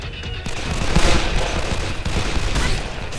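Rapid, loud gunfire fills the moment in the Call of Juarez: The Cartel video game, a dense, continuous burst of overlapping shots with no pauses.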